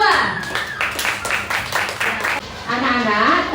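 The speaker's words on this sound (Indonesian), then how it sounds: "jika tidak kita beri tepuk tangan yang meriah untuk kelompok 2" Schoolchildren in a fifth-grade classroom clap together for a presenting group, a brisk burst of close, uneven handclaps lasting a few seconds, followed by a voice speaking.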